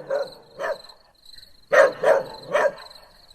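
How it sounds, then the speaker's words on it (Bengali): An unfamiliar dog barks in two short bursts, then three louder, closer barks, over a steady chirping of crickets at night near a rest house. "একটা অচেনা কুকুরের ডাক।"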